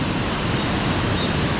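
Water pouring over rocks below a dam at low flow makes a dense, loud, continuous rush that fills the whole moment, with no voices.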